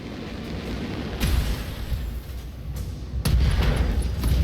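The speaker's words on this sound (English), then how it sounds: "SRM ammo explosion" A mech's SRM ammunition explodes in a video game battle, with two sharp booming blasts about two seconds apart over a low, steady rumble of combat noise.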